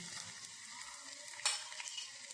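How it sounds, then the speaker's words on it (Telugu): Cumin seeds and a single dried red chilli crackling in hot oil for an instant mango pickle tempering, a continuous close sizzle with a brief sharper spit midway, no talking. "జీలకర్ర ఒకే ఒక ఎండుమిరపకాయ అండి నూనెలో వేస్తున్నానండి"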